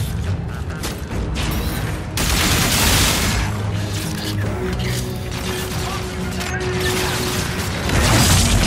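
Sustained futuristic gunfire in a Call of Duty Infinite Warfare campaign battle, with dense rapid bursts and mechanical clatter running continuously and loud, plus brief swells of heavier firing.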